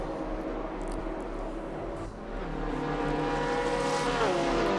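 Porsche race cars in the DTM championship at the Lausitzring, simulated in RaceRoom, drone around the track with steady engine noise that swells as they pass, heard at moderate distance with no talking.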